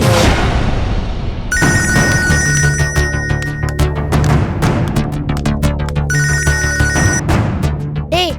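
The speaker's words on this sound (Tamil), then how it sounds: "டேய், ரிங் போயிட்டு இருக்கு" A mobile phone ringtone repeats loudly and steadily for several seconds, a bright electronic melody with pulsing beats and no voices over it, in a Tamil TV drama scene where nobody answers the call.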